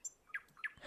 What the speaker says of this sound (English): Come here, little birdie.